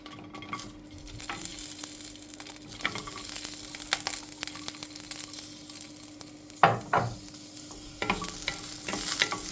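Chilies frying in a pan for a Goan country chicken dish, a soft sizzle under repeated scraping and stirring strokes of a utensil, close and irregular, with a louder clatter partway through.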